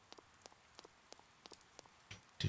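Rain falls steadily in the Persona 4 video game, with soft scattered droplet ticks over a faint hiss and a brief louder splash near the end.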